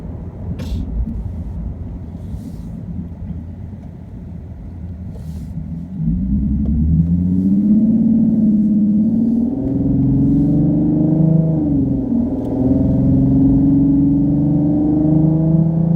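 A Nissan 370Z's loud engine roars steadily from close by through an open window after a sudden jump in volume, its deep rumble rising and falling in pitch as the car revs and accelerates.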